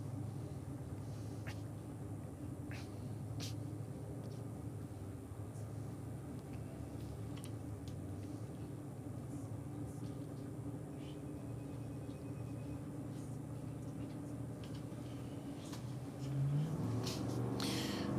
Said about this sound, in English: Chevy Corvette, we can hear building boost.